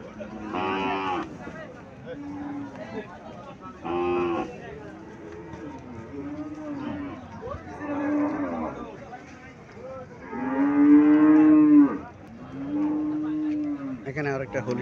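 Holstein Friesian cows mooing repeatedly at a cattle market in Bangladesh, several long, loud, close lowing calls spread through the scene, with people talking in the background.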